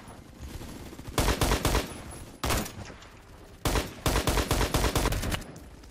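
Rapid automatic gunfire in the shooter game Phantom Forces, loud and close, coming in three dense bursts separated by short pauses, with no talking over it.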